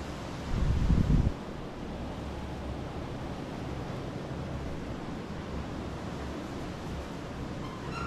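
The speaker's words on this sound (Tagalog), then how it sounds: "Lakas ang hangin." Strong wind buffets the microphone outdoors, a steady broadband rush with a louder gust near the start, then an even roar that continues throughout without talk.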